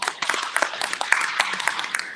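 An indoor audience applauds the curriculum designers at a presentation event, producing a dense burst of close, crisp hand claps that continues steadily for a couple of seconds.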